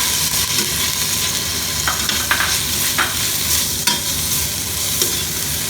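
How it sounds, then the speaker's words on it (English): Tomatoes stirred into onions frying in a pan for a biryani, with a steady loud sizzle throughout and a few scraping spoon strokes standing out. "So now I will be adding tomatoes to it."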